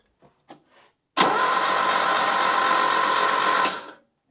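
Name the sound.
Lada Niva engine cranking with remote starter, no spark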